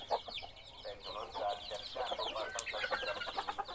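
Fighting roosters cluck and chatter continuously around their morning rice feed, near and moderately loud, with scattered sharper calls, pecking ticks and faint voices in the background.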